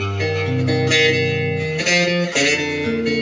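A bass guitar picked Spanish-style starting from the third string, playing a steady run of clear, ringing low notes that shift pitch every few beats, loud and close with no talking.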